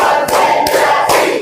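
A classroom of students performs a counted clapping game, sounding three loud group claps in a steady rhythm over a constant hum of room noise.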